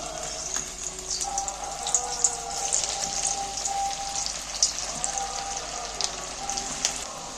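Sabudana and potato mixture frying in hot oil, a continuous close bubbling sizzle with scattered crackles and pops throughout.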